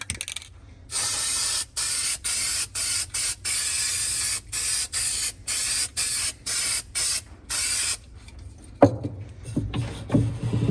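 Rust-Oleum Hammered Black spray paint hisses from an aerosol can in a long series of steady bursts with short pauses, loud and close, used outdoors on Black and Decker Type L parts; a few clunks and handling noises follow.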